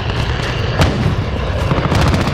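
Sustained heavy gunfire and booming impacts fill a loud, dense Modern Warfare Team Deathmatch battle on Arklov Peak, close and continuous with no clear pauses.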